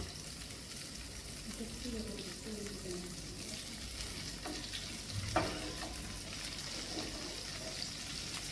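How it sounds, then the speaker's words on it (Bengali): Giant freshwater prawns fry in hot mustard oil in a pan, giving a steady, close sizzle and crackle throughout, with a voice talking over parts of it. "চুলায় সরিষার তেল দিয়ে মাছগুলিকে হালকা ভেজে নিতে হবে"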